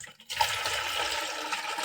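Water pours from a tap into a container during homemade dishwashing soap preparation, starting abruptly with a steady splashing gush that stays loud and continuous, heard close up with no talking.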